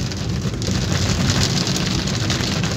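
Rain falls hard on the roof and windows of a car, heard from inside as a dense, steady hiss and patter with a low rumble beneath and no talking.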